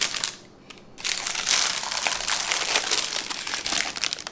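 Parchment paper crinkles and crumples as it is peeled away from a tray of keto pecan bars, a close, dense rustling that continues for several seconds after a short pause near the start.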